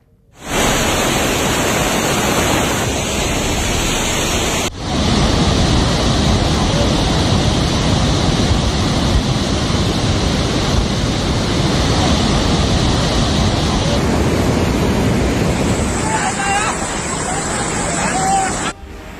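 Floodwater released from the Gandak barrage on the Nepal–Bihar border roars as a loud, steady rushing wash, unbroken for the whole stretch with a brief shift partway through.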